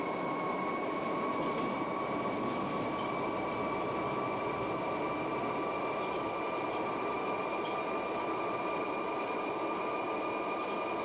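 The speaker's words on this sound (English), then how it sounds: "Come on, train, accelerate." London Underground District Line train accelerating uphill in the OpenBVE simulator, a steady, continuous motor drone with a sustained tonal whine over a broad rumble, unchanging in loudness for the whole stretch, with no voices.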